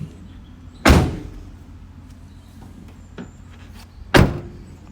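Electronic door opener on a 2020 VW Transporter 2.0 TDI T28 Startline SWB van: two sharp, loud door thuds about three seconds apart, with a softer click between them over a low idling hum.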